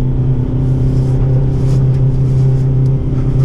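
An Isuzu D-Max Arctic Trucks pickup crawling across a field in first gear, its engine giving off a close, steady, low humming drone that holds constant throughout.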